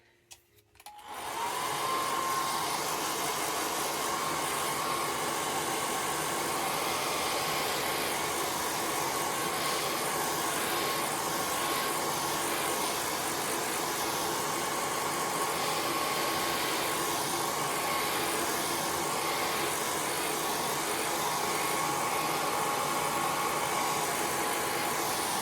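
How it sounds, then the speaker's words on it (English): A hairdryer switches on after a brief moment of quiet and blows in a steady, loud, unbroken whoosh while drying a watercolour painting, with no talking over it. "I'm going to use the hairdryer for a minute."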